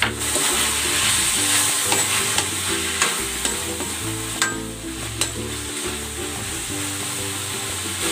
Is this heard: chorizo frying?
yes